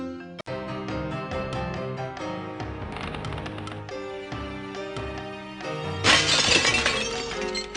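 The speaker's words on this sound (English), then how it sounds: "you get some creature jumping through the window, breaking the glass, coming in," In a horror video game, glass shatters loudly near the end as a creature smashes through a window, set against a dense, sustained musical score that swells with the crash.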